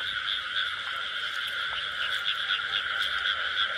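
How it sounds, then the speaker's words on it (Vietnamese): Two frogs croak together at night in the wild, a steady dense chorus of rapid overlapping calls that runs without a break and sounds close and fairly loud. "Phát hiện được cặp ếch rồi cả nhà ơi."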